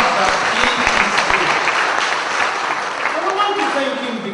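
Congregation clapping at a missions and ministry conference, a loud, dense and sustained wash of applause throughout with a faint voice underneath.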